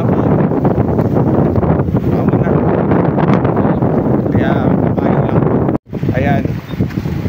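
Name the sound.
strong wind blowing into the microphone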